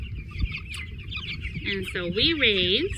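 White Rock meat chickens on a farm cluck and call in a close flock, with brief bird chirps at first, then a rising run of clucks over the last second, all under a man's speech.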